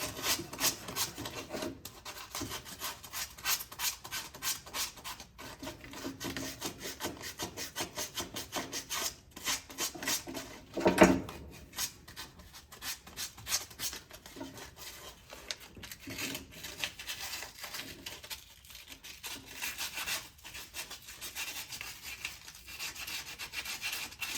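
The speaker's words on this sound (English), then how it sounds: "on the top side, we're going to sand it a little bit" Sandpaper rubs metal by hand near a nut on the top side of a 1967 Jeep M72, giving steady close rasping strokes with one louder scrape partway through.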